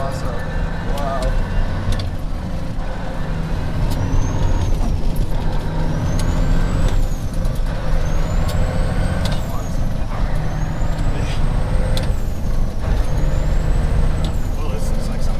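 A 1997 Kenworth T800 semi truck with a CAT 3406E engine and 18-speed transmission rumbles steadily from inside the cab while driving, with a rising and falling turbo whistle and a few sharp air hisses over the drone.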